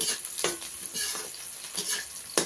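Onions stirred as they fry in a pan, with a steady sizzle running throughout and several scraping strokes of the spoon at irregular intervals, close and fairly loud, with no voices.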